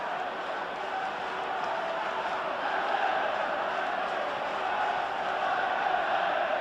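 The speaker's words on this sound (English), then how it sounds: "There's the confirmation of the crowd." A large football crowd at the 1977 League Cup final second replay between Aston Villa and Everton keeps up a steady, distant roar with indistinct shouting, heard as a broad wash of noise without any clear peaks.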